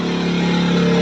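A home backup generator engine drones steadily and loudly nearby, a continuous hum with a slight rise in pitch as it works harder under load.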